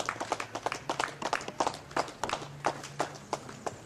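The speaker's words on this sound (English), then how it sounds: "Let's give him a round of applause" A crowd at an outdoor anniversary commemoration claps for a speaker at the podium. The applause is a sparse, uneven patter of separate hand claps that carries on steadily, with no voices over it.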